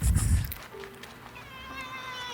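A kitten meows in short, high cries from a video playing in the room, with steady background noise behind it.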